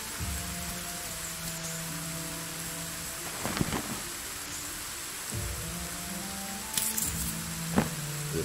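Heavy rain hisses steadily in the fantasy game Black Geyser, a dense wash of downpour under quiet tonal game music, with a few brief clicks and thuds rising out of it.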